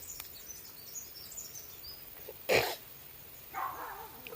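A dog barks once sharply at a distance, followed by a softer bark a second later, over quiet outdoor background with faint birds.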